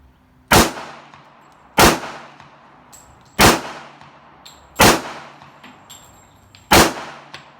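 Five sharp, loud gunshots from an Auto Ordnance 1911 A1 pistol at an outdoor range, fired at an uneven, deliberate pace about a second or more apart, each crack followed by a brief decaying echo.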